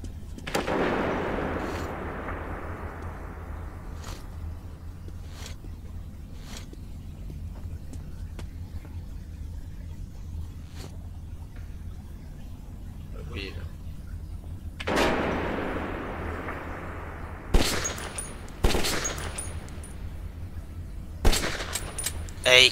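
Sporadic loud shots and booms in the video game Metro 2033, each with a long reverberant tail, spaced apart over a low steady hum, a few sharper cracks near the end.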